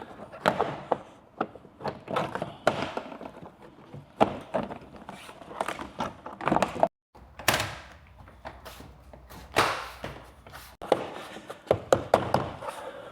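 Plastic door card panel on a Fiat 500 being pressed and seated into place, producing a series of close, irregular thumps, taps and knocks with short pauses between them, quiet and without talk.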